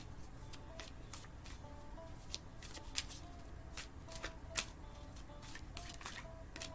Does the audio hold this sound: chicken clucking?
no